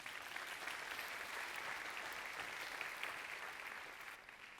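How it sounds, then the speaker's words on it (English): An audience applauds Jodie Ginsberg of CPJ at a panel event, a steady, dense wash of clapping from a crowd that holds evenly and then begins to fade. "Please give Jody a round of applause."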